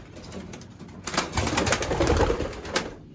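Racing pigeons coo close by in a short, throaty burst that swells and fades over a few seconds, with a faint rustle in the background.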